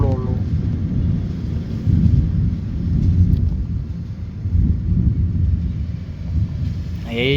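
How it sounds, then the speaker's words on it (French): Heavy thunder rumbles through a strong thunderstorm in Bordeaux, a deep, loud roll sustained for several seconds with rain and wind noise underneath, and a voice briefly heard at the end. "Et il y a effectivement eu de la foudre, hein, les amis, vu le coup de tonnerre."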